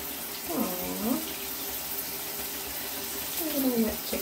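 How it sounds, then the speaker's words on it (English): Shower water pouring steadily over a pet chicken in a bathroom, a constant hissing spray, close and even, with a person talking softly over it at times. "He loves the shower."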